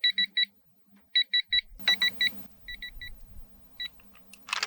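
A digital torque wrench on an Audi Q5 rebuild gives repeated triple electronic beeps in short groups, sounding clear and close, with some clunking mechanical noise partway through.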